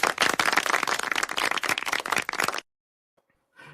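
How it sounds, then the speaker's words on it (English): An audience in a movie scene breaks into brisk, loud applause with dense overlapping claps for about two and a half seconds, then it cuts off abruptly to near silence. "I just love how they clap at that"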